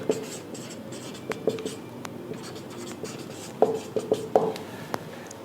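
Chalk or marker writes on a board in short scratchy strokes with small taps and pauses between them, close and fairly clear against a quiet room.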